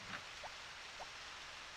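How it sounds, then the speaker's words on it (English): Steady rain falls in the Harvest Moon farming game, a soft continuous hiss with faint scattered drops, heard alone and quiet. "And of course, it is raining again."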